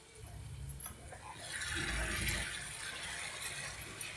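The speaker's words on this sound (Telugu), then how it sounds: "కొంచెం వాటర్ వేసుకోండి." Water is poured into a pan of spiced potato kurma, a splashy rush that swells in the middle and then eases into a softer, steady liquid hiss.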